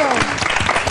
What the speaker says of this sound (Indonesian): Coba dari tepuk tangan